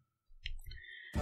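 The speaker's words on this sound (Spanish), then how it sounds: "Cuando le dan clic en install.bat" A single faint computer mouse click sounds close and quiet in a near-silent room, followed right after by a brief burst of louder noise.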